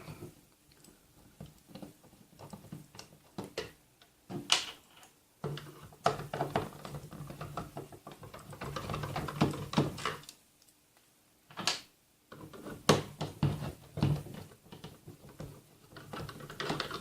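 Screws being undone from a Sega Dreamcast console, heard as a run of small clicks, taps and scraping handling noises close by, broken by brief quiet pauses, with no talking.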